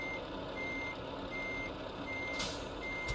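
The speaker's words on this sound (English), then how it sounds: "Sound of this truck, it's amazing, except the beeping part." A truck in the Euro Truck Simulator 2 video game sounds its reversing alarm, a regular high beep repeating every second or so over a low, steady engine drone.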